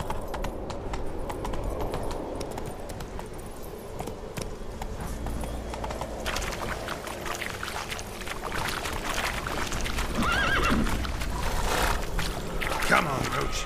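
Horse Roach galloping in The Witcher 3, a rhythmic clip-clop of hooves with rushing outdoor ambience, mid-distance, and a brief high whinny near the end; a voice speaks over it.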